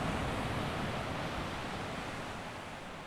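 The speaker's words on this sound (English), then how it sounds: "Waves rolling slowly in toward you, and then slowly out again." Ocean surf rolls in toward the shore and drains back out, a broad, steady roar of breaking water, loud and close, swelling slightly and easing toward the end with no voices.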